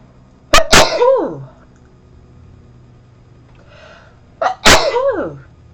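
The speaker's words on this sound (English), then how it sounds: "I'm going to sneeze." Two sharp sneezes, close and loud, the first a quick double burst, the second following a few seconds later after a soft inhale.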